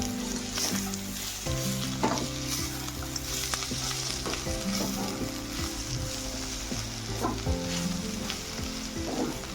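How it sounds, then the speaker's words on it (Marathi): A spoon stirs ground peanut powder and fresh coriander into a sizzling pan of village-style dry field bean pod curry, with steady scraping and frying crackle running throughout at close range. "दाण्याचा कूट टाकून घेते कोथंबीर मिक्स करून घ्यायचं आहे"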